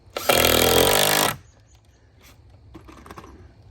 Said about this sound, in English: So Dad putting the big screws in.